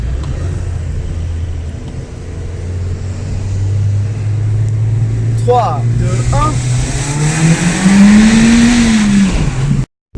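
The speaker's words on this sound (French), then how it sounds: "Écoutez l'échappement." A Citroën C2 VTS engine idling then revving loudly, the exhaust note rising and falling, with a voice counting down over the engine before it cuts off.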